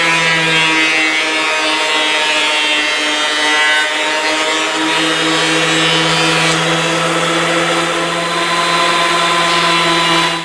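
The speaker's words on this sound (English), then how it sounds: "planer takes off a fraction of an inch and also machines the board perfectly flat" A thickness planer machines wooden boards flat for a desk side table, giving a loud, continuous motor whine and cutting roar that runs without a break, close and alone.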